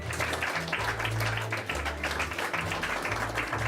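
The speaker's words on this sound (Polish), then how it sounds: "Ich spektakle zawsze kończą się gromkimi brawami" A theatre audience applauds loudly and steadily after an amateur stage performance, the clapping dense and continuous throughout over a low hum.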